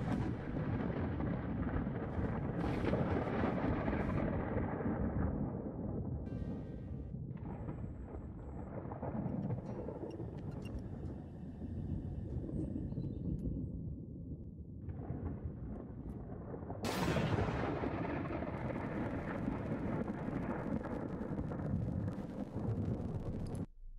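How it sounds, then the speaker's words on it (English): Rumbling, crackling storm noise from the glitch storm effect in the Ghosttown Spirit Simulator glitch art game, a dense continuous roar that swells sharply near the end, with no talking. "The glitch storm has some interesting effects, some of which being this, when you press the mouse key."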